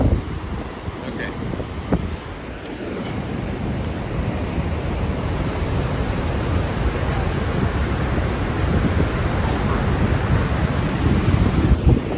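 Fast-moving water rushes at Niagara Falls in a loud, continuous broadband roar, mixed with wind buffeting the microphone, steady from start to finish with no clear talk.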